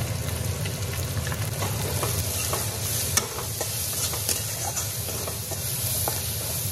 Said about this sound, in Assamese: এইটোকে ৰঙচুৱা হোৱালৈকে অকণমান ভাজি লওঁ